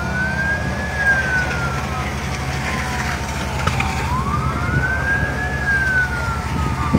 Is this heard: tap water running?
no